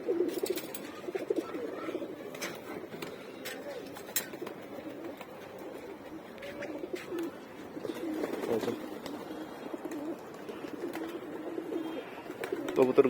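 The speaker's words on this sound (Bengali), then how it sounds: "কবুতরগুলো বের হচ্ছে" Pigeons coo repeatedly close by as they come out of their cage, a continuous low burbling with occasional wing flaps and clatter, and a person speaks faintly at times.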